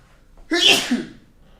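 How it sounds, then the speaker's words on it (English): A single sharp sneeze bursts out close by, loud and brief, with near silence before and after. "Like now, I'm starting to sneeze."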